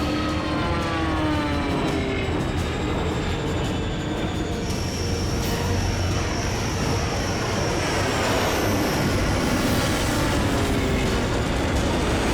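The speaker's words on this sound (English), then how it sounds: "the bombers have reached their IP." Bomber aircraft in a sci-fi naval war battle thunder overhead, a loud, continuous roar of engines that fills the scene and shifts in pitch as they pass, with no talk.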